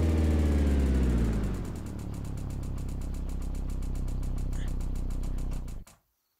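A damaged Ibishu Kashira ZX 3.5 AWD in a driving simulation revs down and dies: a loud engine drone drops in pitch, holds a rough, sputtering idle, then cuts off abruptly into silence.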